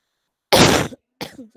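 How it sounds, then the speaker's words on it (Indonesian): A single harsh cough bursts out close to the mic, followed a moment later by a softer throaty sound, with silence before. "saya lagi batuk jadi kalau ngoceh terus tuh gatel"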